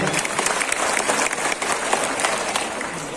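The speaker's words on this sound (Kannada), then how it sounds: "ಅವ್ರಿಗೊಂದು ಚಪ್ಪಾಳೆ." An audience at a 104th birthday celebration applauds, a dense and sustained round of clapping from a crowd in a hall, steady and fairly loud, with some chatter underneath.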